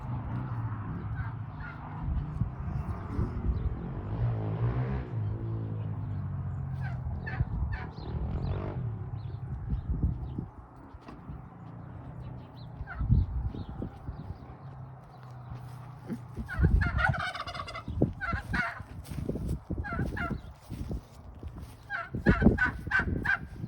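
Turkeys gobble in warbling bursts close by, mixed with other fowl calls and shuffling, clattering farmyard noise.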